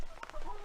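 Speckled Sussex chicken clucking in a brief close burst, a few soft clucks over light background noise in a coop on a rainy day.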